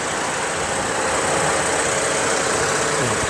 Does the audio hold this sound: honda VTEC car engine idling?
yes